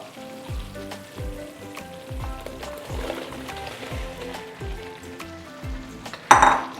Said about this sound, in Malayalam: ഈ സമയം നമ്മളിതിലേക്ക് കട്ട് ചെയ്ത ആപ്പിൾ ഇട്ട് കൊടുക്കുക കേട്ടോ.